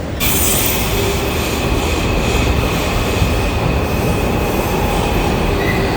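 A train pulls into a busy London station at peak hour, its steady rumble and wheel noise loud and close with a faint high squeal from the wheels running throughout, and no voices over it.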